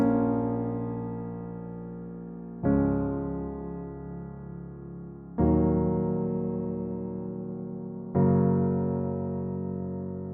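Sustained piano chords for a liquid drum and bass track, four struck chords each ringing out and slowly decaying before the next, full and close with no voices.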